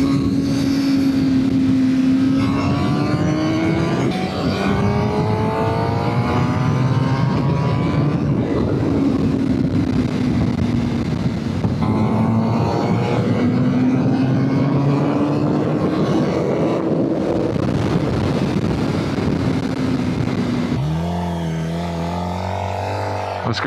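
A Suzuki GSX-R 600 sport motorcycle rides fast, its engine note sweeping up and down through gear changes in a steady, loud, close drone with wind noise, ending in a lower idle-like rumble.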